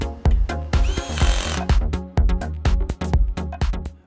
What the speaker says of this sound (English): tighten the screws securely